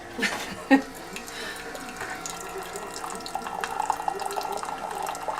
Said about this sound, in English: So here in just a little bit, it'll actually just start dispensing your liquid, like right now.